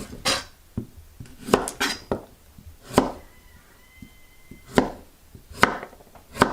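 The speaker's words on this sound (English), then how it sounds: "All of our kohlrabi and our turnips are chopped up." A knife chops kohlrabi and turnips on a cutting board in irregular, close, sharp knocks, some in quick bursts and others spaced apart, with a faint clink of kitchenware and no talking.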